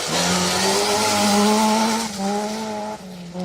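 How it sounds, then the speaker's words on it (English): A Vauxhall Astra Mark II rally car drives a special stage at the Anglo Caledonian Rally, its engine loud and close, holding a strained high-revving note with brief dips at gear changes and no talking. "It's only John's second rally this year, and he's been going well in that Mark II Astra."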